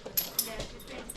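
A dog named Drogo gives a few brief, soft whimpers and yips up close, with people talking around it.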